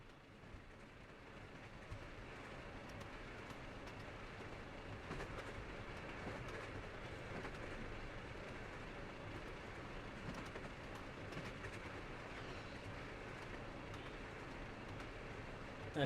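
A PRR T1 steam locomotive running in Trainz Simulator 3, a continuous rolling rumble with rhythmic clickety-clack of wheels on rail, steady and fairly quiet with no talk over it.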